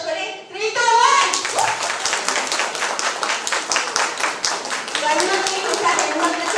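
An audience at a comedy show during a human rights event claps in a dense, rapid burst of applause that carries on steadily, with voices talking over the clapping.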